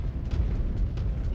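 A critical explosion in the mech combat game MechWarrior 5: Clans, heard as a deep rumbling boom with heavy low-end energy rolling through the entire moment, with faint talk underneath.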